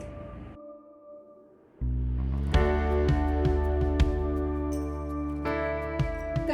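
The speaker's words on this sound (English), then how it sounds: "That's the sound of the oven" A kitchen oven sounds a chime after a quiet stretch: a sustained, ringing electronic melody of several layered tones with repeated soft note onsets, fairly loud and alone.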